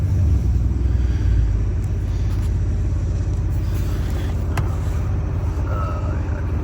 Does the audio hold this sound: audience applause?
no